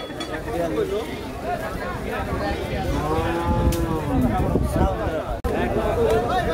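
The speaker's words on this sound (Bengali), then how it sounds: "হযরতপুর গরু হাটে এই গরুগুলা ঢুকতেছে এখন" Cattle low loudly while entering the Hozrotpur cattle market, several drawn-out moos rising over a busy crowd, with voices chattering throughout.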